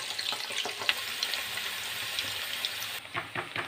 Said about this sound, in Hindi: हमने तेल को गरम कर लिया है, अब हम आंवला तेल में डालेंगे।